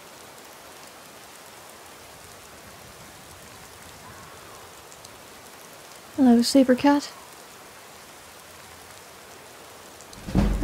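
Steady cold rain falls in Skyrim, a constant soft hiss of drops throughout, briefly interrupted by a short spoken greeting in the middle and another voice at the end.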